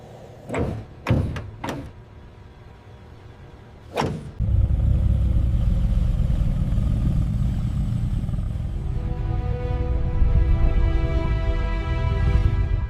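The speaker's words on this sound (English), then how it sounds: "Bentley's W12 engine, hand-built." A hand-built Bentley W12 engine in a factory setting: a few sharp knocks or clicks, then the engine starts and runs with a loud, steady roar that carries on alone.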